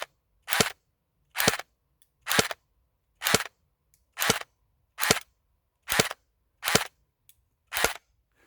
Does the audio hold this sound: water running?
no